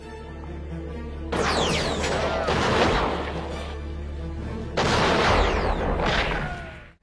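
Gunfire erupts in a war film about snipers, coming as two loud, crashing volleys with ringing, sweeping debris noise and a low rumble beneath. A quieter stretch sits between the volleys, and the sound fades out at the end.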